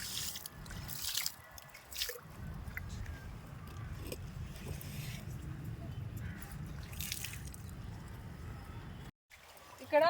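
Liquid fertilizer poured from above onto small chrysanthemum plants in a home garden, a steady splashing, dripping water sound close by that runs for several seconds, with a brief pause near the end.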